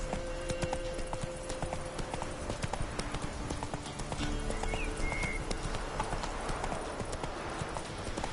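Horse hooves clip-clop at a steady gallop rhythm throughout, close and fairly loud, in the video game The Witcher 3, with a brief whinny partway through and faint game ambience underneath.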